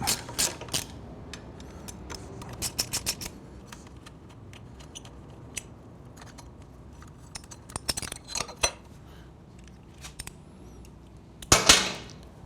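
Removing the heel guard from a Triumph motorcycle with a T30 Torx bit: quiet ratcheting clicks and metallic tool clatter come in short bursts, with a louder cluster of clicks near the end, close by and without talk.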